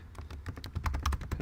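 Password being typed on a computer keyboard, a quick run of close, crisp key clicks in an uneven rhythm with no talking.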